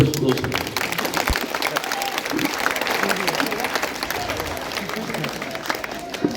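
Audience at a Hindi poetry recital for Martyrs' Day breaks into loud, sustained applause, a dense crowd of clapping with some voices mixed in.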